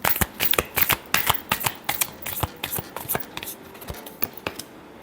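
Tarot cards being shuffled by hand in a quick run of crisp riffling bursts, close and fairly loud, with no talking over it.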